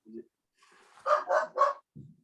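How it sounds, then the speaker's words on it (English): Dogs bark in a quick run of three muffled barks at moderate distance, preceded by a faint yip and softer whine, with a short low grunt at the end; fairly quiet overall. "here's the dogs getting restless"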